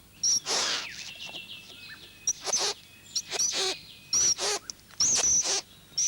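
Male bowerbird calling at his shell-decorated bower in the Australian bush: loud, close bursts of harsh chattering calls and sharp whistled notes repeating in quick, irregular succession, with no talking.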